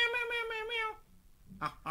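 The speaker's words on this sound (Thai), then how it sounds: "แมว" A cat gives one long, drawn-out meow up close, then a brief pause, followed by the start of another short cry.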